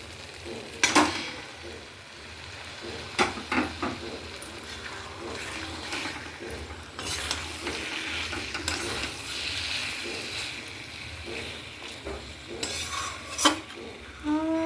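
Mutton pieces going into spiced oil in a pan, with irregular loud metal spoon scrapes and clanks from stirring over a softer continuous sizzle.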